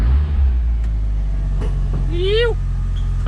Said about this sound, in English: So car's running.